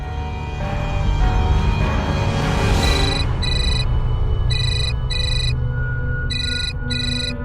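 A telephone ringtone rings loud and near in repeated electronic bursts with short gaps, rising out of a brief swell of other sound at the start.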